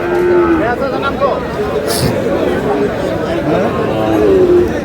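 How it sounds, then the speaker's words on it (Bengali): Sahiwal cattle moo repeatedly in long, drawn-out calls over steady crowd chatter and background hubbub at a busy livestock market in Chittagong. "শাহিওয়াল"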